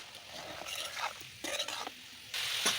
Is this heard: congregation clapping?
no